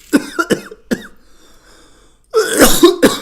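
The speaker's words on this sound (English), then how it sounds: "all I'm doing is coughing on stream" Several sharp coughs in two bursts, a pair of quick hacks, a pause with faint breathing, then a harsher, louder run of coughing close to the mic.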